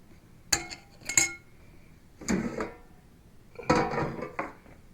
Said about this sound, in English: the next thing I'm going to do is just position the wings in the air fryer